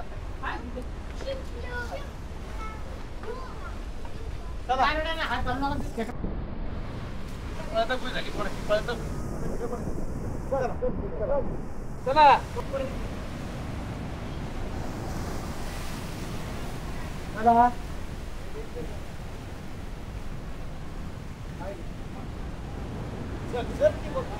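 Sea waves rolling in at high tide along the rocky Harihareshwar shore, a steady broadband wash with occasional louder surges, heard under people talking and wind buffeting the microphone.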